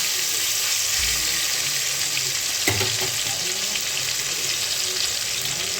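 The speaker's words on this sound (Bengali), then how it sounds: "কালো জিরে দিয়ে দেওয়ার পরে আমি টমেটোটা দিয়ে দিলাম। টমেটোটা একটু ভাজা ভাজা হবে।" Tomatoes sizzle in a pan with black cumin seeds as they are stirred, giving a steady, close frying hiss with a few clinks of the spoon.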